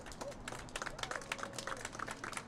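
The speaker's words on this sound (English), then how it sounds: "So a big round of applause for everyone." Outdoor crowd at a street furniture ribbon cutting gives a round of applause for students and teachers, a fairly faint spread of scattered, uneven claps continuing steadily throughout.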